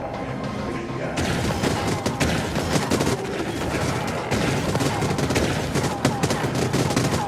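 Dense, continuous enemy gunfire rattles loudly in the sci-fi shooter Void Bastards, with overlapping shots and thumps forming a steady barrage.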